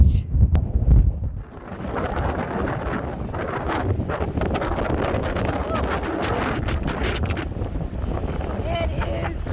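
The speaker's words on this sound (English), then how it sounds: "It is crazy windy today." Strong gusty wind buffeting a microphone on a beach after Hurricane Ian, a steady roaring rush of air mixed with surf, with a brief sharper gust at the start.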